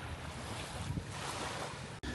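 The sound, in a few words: waves at a beach in Cebu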